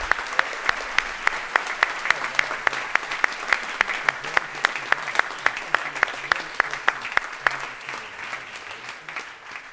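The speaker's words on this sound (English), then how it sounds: "Please give her a round of applause." Applause from an audience after a lecture on the history of politics, steady loud clapping with a few sharp individual claps standing out, continuing throughout.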